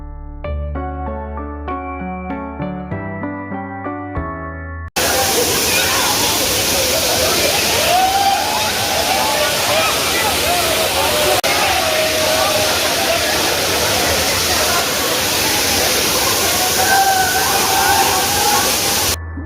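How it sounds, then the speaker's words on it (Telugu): Kempty Falls in Mussoorie, set among high hills, pours in a loud continuous roar, with crowd voices mixed in. A short stretch of tonal music comes before the water. "చుట్టూరు ఎత్తైన కొండల మధ్య ఈ వాటర్ ఫాల్ ఉంటుందండి"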